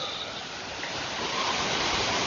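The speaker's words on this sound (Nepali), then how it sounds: "हेर्नुहोस् त यसरी पानी बगिरहेको छ।" Rushing water of the Khardu river flowing past gabions near a drinking-water project dam after rain, a steady broadband roar with no breaks, close and continuous, slightly swelling toward the end, no voices.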